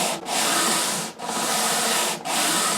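Wood on a ten-string classical guitar build is sanded by hand with 120 grit sandpaper, a close, loud scratchy rasp in long strokes with three brief pauses between passes.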